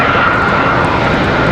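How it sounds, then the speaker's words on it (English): An American Airlines A321 jet airliner touches down on landing, a steady, loud engine roar with broadband rush holding evenly throughout and no voices. "Next arrival, American Airlines 2169 from Phoenix, Arizona, touching down. Another A321."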